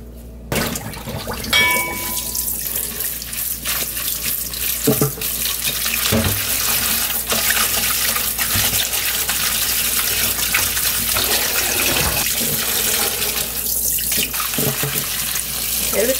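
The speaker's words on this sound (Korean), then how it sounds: "흔들어가면서 씻으시면 돼요." Tap water runs steadily into a kitchen sink while mugwort is rinsed and swished by hand, a constant close gush broken by occasional splashes and clatter.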